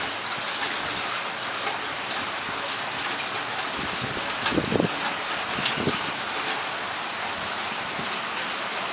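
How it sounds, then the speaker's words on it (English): Rain falling in a garden, a dense, even hiss of steady rainfall with a few louder splashes near the middle and no voices. "So we'll just be quiet and listen as the rain comes down."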